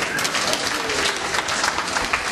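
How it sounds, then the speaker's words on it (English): A crowd at a community gathering breaks into loud, sustained applause to welcome a guest, many hands clapping densely and evenly close by for the whole stretch. "Give a warm round of applause to Isaac Wambua."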